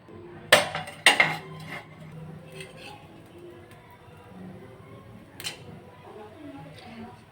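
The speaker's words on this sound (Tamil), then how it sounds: "இப்போ நம்ம பணியாரக்கல்லை சேர்த்துக்கலாம்." A metal paniyaram pan is set down on a stove with two sharp clanks near the start and a lighter knock later, followed by quieter kitchen shuffling and faint talk.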